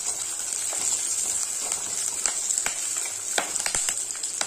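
Ten garlic cloves and curry leaves sauté in hot oil in a pan for okra tamarind kuzhambu. A steady close hiss of frying runs throughout, broken by scattered sharp pops and crackles.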